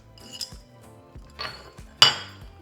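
Chopped zucchini and cilantro going into a pot of chicken noodle soup, with a few light metallic clinks and scrapes of a utensil against the pot, close and fairly quiet.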